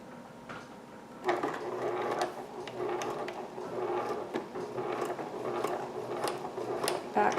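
A sewing machine stitches a quarter-inch seam on a girls' nightgown, its busy, steady mechanical chatter running close and moderately loud for several seconds after a quiet start.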